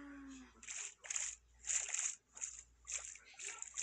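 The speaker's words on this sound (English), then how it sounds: "Let me just feel this water" A hand splashes and swishes through pool water at a holiday resort, several close bursts of sloshing in a loose rhythm, with a brief voice at the very start.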